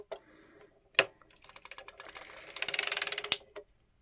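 A circular sock knitting machine is cranked, giving soft mechanical clicks and ticks that speed into a rapid, evenly spaced ratcheting run before stopping, quiet and close.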